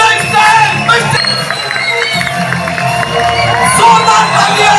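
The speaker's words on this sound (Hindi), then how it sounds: "मैं उनको जोरदार तालियों के बीच, सीटियों के बीच, म्यूजिक के साथ" A large crowd cheers and whistles loudly to welcome a speaker onto the stage at a Mi Lifestyle business event. Sharp shrill whistles cut through a dense, steady roar that holds for the whole stretch.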